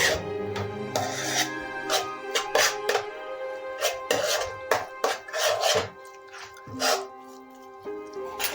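Fried peas and fenugreek stirred in a pan for malai matar, loud close sizzling and scraping with repeated spatula strokes against the pan.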